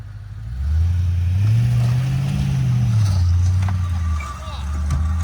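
Truck fitted with a front plow, its engine droning low and steady, rising in a drawn-out rev as it pulls away, then easing off and picking up again near the end; close and loud, with a person speaking over it.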